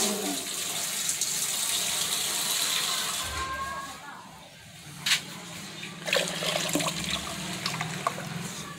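Water poured and splashing into a pot to dissolve saltpeter, a steady running-water wash with a few sharper splashes and clinks near the end, close and moderately loud.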